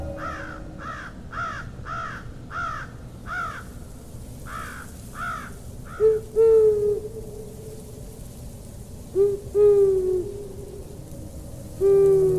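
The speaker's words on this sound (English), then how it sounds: "You are now hearing an owl." An owl hoots in the jungle, a series of short evenly spaced calls followed later by longer, lower hoots, close and clear against quiet forest ambience.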